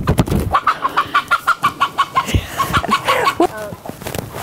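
A non-broody hen clucks in a steady run of short, evenly spaced notes, close and clear, with a few louder squawky clucks near the end.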